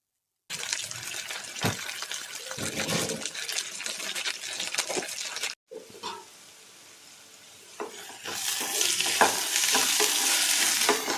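Makhana (fox nuts) stirred and dry-roasted in a pan, giving a steady close scraping and rustling sizzle that drops out briefly mid-way and then resumes louder, with no talking.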